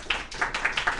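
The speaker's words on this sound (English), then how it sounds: "Round of applause" A round of applause breaks out during a studio talk-show interview, a short burst of close, fairly loud hand claps with uneven rhythm, a few sharper accents standing out.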